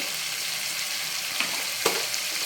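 Cumin seeds frying in a pan for peanut chutney make a steady soft sizzle, broken by a couple of brief clicks as a spoon stirs.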